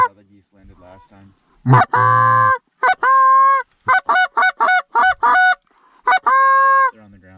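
Geese honk loudly and close in repeated bursts, a clustered series of nasal calls with short gaps between them, with faint human voices quietly underneath early on.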